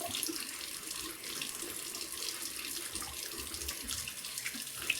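Cold tap water runs steadily into a sink as a face is rinsed after a safety razor shave, a continuous close hiss with no voices.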